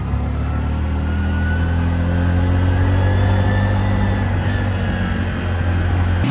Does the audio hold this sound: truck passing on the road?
yes